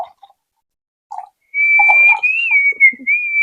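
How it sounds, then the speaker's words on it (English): A person whistles a sustained, slightly wavering tone for about two seconds after brief soft mouth sounds and murmurs, close and clear in a quiet room. "I haven't whistled in a while."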